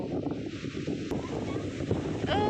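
Strong, dry wind gusts across a rocky hilltop on a family camping trip by the water, buffeting the microphone in uneven surges, with faint voices in the background.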